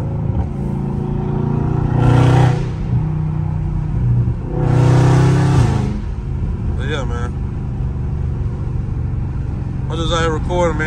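Loud Dodge Scat Pack revving hard in traffic, two strong surges of engine roar with rumble between them and crackling pops, alongside other passing vehicles and someone talking over it.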